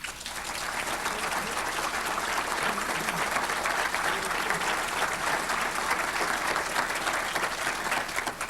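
An audience at a State of the City address applauds the new superintendent with sustained, even clapping that swells in after the first half-second and holds steady throughout.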